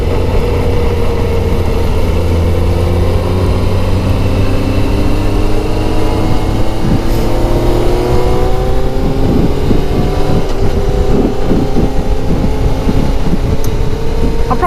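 A Kawasaki ZZR600 motorcycle rides down country lanes, its engine droning loud and close throughout with rising and falling pitch as it accelerates and shifts, over steady wind rush.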